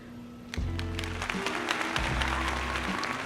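A crowd claps and cheers in a sustained burst of applause, dense and lively, with a low hum underneath.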